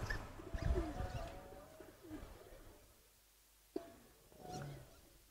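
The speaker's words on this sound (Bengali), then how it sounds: "সবুজ গলা জাবরা কবুতর, জাবরা সবুজ গলা কবুতর" A green-necked Jabra pigeon coos softly in a quiet indoor space, with a few low, rounded coos spread across the moment and a sharp tap partway through.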